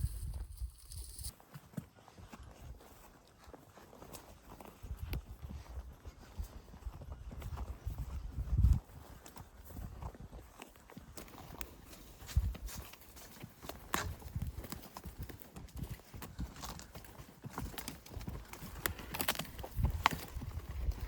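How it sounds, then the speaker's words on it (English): Horses walking with a steady clip-clop of hooves on the ground, close by, joined by occasional thuds and rustling. "we rode the horses over the knob here"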